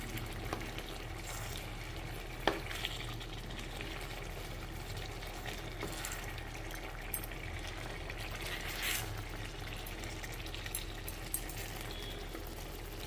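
Chicken legs frying in oil, Andhra style, a steady low sizzle and bubbling with occasional soft clicks as the pieces are turned, fairly quiet and close, with no talking.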